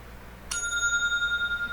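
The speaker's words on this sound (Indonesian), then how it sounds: "maka kalian harus membunyikan bel" A single bell ring marks the one-minute point in a debate round, signalling that interruptions are now allowed; one sharp metallic strike at the start with a clear ringing tone that sustains and fades slowly, heard alone.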